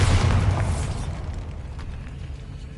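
A Bombardo spell explosion in Hogwarts Legacy goes off as one loud, close boom with a broad burst. It is followed by a rumbling tail that slowly fades.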